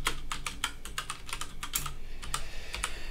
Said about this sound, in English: I can type into it.